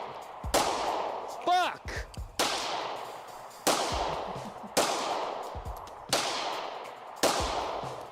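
Single gunshots from a handgun fired at a range, loud and close, spaced roughly a second apart in a steady series, with a brief shouted exclamation between the early shots.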